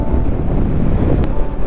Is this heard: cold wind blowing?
yes